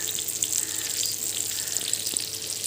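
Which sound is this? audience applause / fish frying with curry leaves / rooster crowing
fish frying with curry leaves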